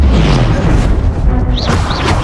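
A disarming spell cast in Hogwarts Legacy, heard as a loud magical boom with a whooshing burst and a rising, swooping shimmer of energy, set against continuous combat noise.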